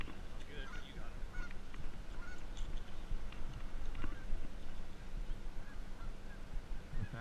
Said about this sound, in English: Look at all the baby geese.